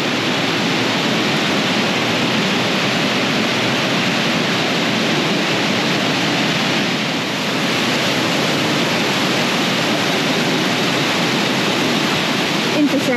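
Steady, loud rush of a waterfall at a water crossing in Mondulkiri, heard from close by as a continuous broadband roar with no breaks for the whole stretch.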